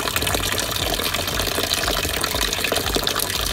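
Natural mineral spring water pours and gushes continuously outdoors, a dense, steady rushing that stays loud and even throughout with no voices.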